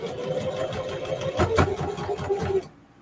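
A sewing machine stitches through denim jeans in a fast, steady mechanical whir with rhythmic needle ticks, then stops abruptly into near silence.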